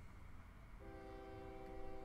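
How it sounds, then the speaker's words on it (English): A train departing in the video game OpenTTD, a steady tonal horn-like whistle that starts partway through over a low rumbling background, faint and alone. "Let's wait for one of these trains to undertake its journey to the sawmill,"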